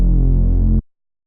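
A deep Reese bass patch from Serum with dual resonant filters and a little drive holds a thick, throbbing low note for under a second before stopping sharply.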